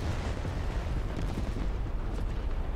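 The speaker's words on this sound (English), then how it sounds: "Let's see if we survive this artillery strike." Continuous rumbling barrage from an artillery strike in the War Thunder tank combat game, dense overlapping blasts merging into a loud steady roar with no gaps.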